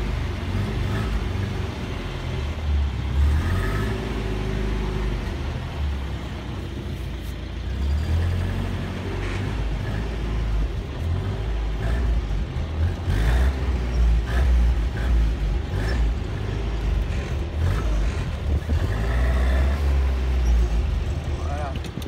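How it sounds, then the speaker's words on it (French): A 1952 Land Rover Minerva engine chugs low and steady while the vehicle drives in reverse gear, a loud, close rumble with irregular mechanical clatter, and someone speaks over it at times. "allez, on enclenche la marche arrière."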